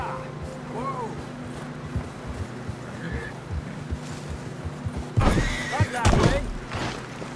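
A horse in the Red Dead Redemption 2 video game whinnies in two short cries early on, with hoof and ambient game sounds and water or wind noise underneath, and a louder burst of activity near the end.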